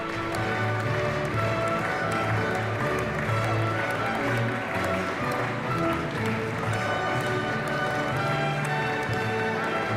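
Sustained audience applause for Romania at the European Charlemagne Youth Prize ceremony in Aachen, an even, dense patter of many clapping hands continuing without a break, with soft music running beneath.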